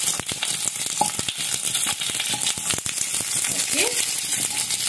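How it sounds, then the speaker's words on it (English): Paneer frying lightly in a little oil over a high flame, giving a soft, continuous sizzle with faint crackles and a few small utensil taps, heard close but at low volume, with no talking. "Very, very lightly I fry it and I remove it."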